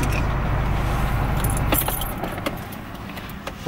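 A car engine idles with a steady low rumble and then cuts out partway through, followed by a brief jangle of keys close by in the quieter cabin.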